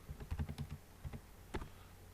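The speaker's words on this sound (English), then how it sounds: "I'm going to input my username and password." Fingers tap out a username and password on a computer keyboard, a quick burst of close, soft keystrokes followed by a few scattered presses.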